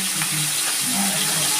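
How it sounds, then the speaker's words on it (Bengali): Chopped onions frying in a pan for an egg curry, a dense continuous sizzle with soft scraping as they are stirred, close and steady with no talking. "পেঁয়াজটা আমার ভাজা ভাজা হয়ে গেছে।"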